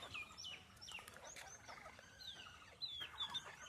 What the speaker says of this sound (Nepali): हाम्रो चाहिँ कुखुरा